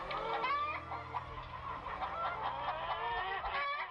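Chickens clucking and squawking in a steady, busy flock chatter, with overlapping calls throughout as a sound effect in a horror story set on a farm with a well.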